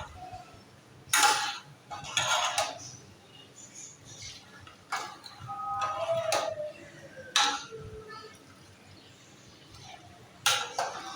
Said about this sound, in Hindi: चम्मच को जो है वो मुस्तकिल तौर पर हिलाते रहेंगे ताकि इसमें लम्स ना बने